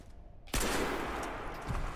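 Gunfire in the video game Crysis 3 starts abruptly after a near-silent moment and becomes a loud, dense, continuous roar of shots.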